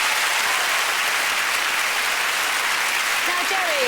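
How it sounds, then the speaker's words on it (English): Steady, loud studio audience applause on a television entertainment show, a continuous wash of clapping from a large crowd lasting several seconds, with a faint voice surfacing near the end. "I reckon that deserves a huge round of applause."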